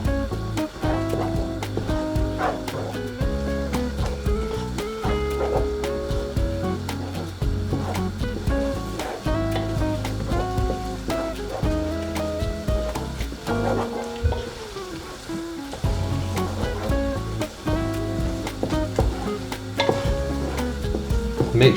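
Egg frying and being stirred and broken up in a pan for masala egg (anda) curry, a steady close sizzle running throughout with repeated scraping and stirring clatter.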